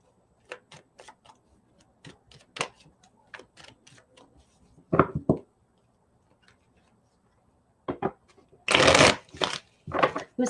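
A deck of tarot cards being shuffled close up, with soft riffling taps followed by louder bursts of cards being bridged and shuffled together.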